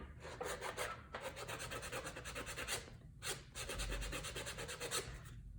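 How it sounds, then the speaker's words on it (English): Steady, rhythmic rasping strokes of sanding a leather edge on a saddle bag, repeated back and forth at close range with a couple of brief pauses. "you can also do some sanding along here."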